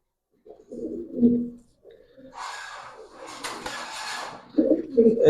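Military and Jabra Pankhi pigeons at a pigeon farm coo in low, soft, throaty murmurs close by, with someone talking at the start and end.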